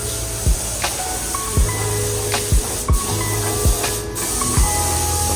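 A first coat of white paint is sprayed during an RX7 rebuild, with a steady airy hiss nearby and soft thumps recurring about once a second.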